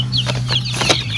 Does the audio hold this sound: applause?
no